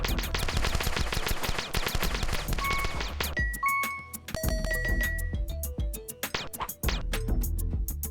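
Rapid gunfire from The Desolate Hope, a dense stream of shots over the first few seconds, then sparser single blasts mixed with chiming electronic tones, loud and close with no talk.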